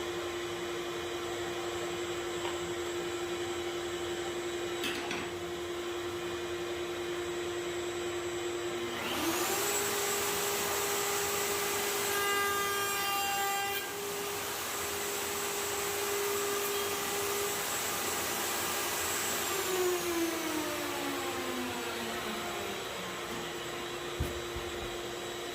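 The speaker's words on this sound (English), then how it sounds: "make sure that the router bit is raised or lowered just to make sure it shaves off" Electric router trimming binding channels along the sides of a guitar neck, a steady loud motor whine with a cutting burst in the middle, running alone without talk.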